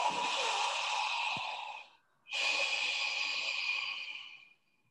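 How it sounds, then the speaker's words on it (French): Two long breaths with a soft friction sound in the throat during chair yoga, each a steady airy hiss that fades out, separated by a short silence. "la respiration Ujjayi, la respiration où on entend ce frottement dans la gorge"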